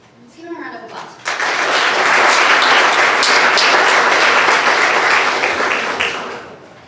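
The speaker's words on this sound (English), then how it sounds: "Let's give him a round of applause." A school awards assembly audience breaks into loud, sustained applause after a brief spoken line, with dense clapping swelling for several seconds before tapering off.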